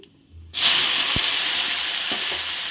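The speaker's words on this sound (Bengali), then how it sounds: "টমেটো কুচিটা এখন ভালো করে ভেজে আমি নরম করে নেব" Chopped tomato hits hot oil in a pan for ghugni and bursts into a loud, steady sizzle that holds without letup, with a faint clink or two beneath.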